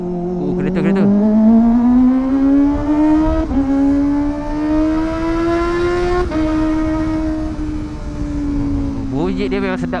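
A Kawasaki ZX25R motorcycle engine screams while riding, its high-pitched note climbing steadily through the revs with quick breaks at each gear shift, loud and close throughout.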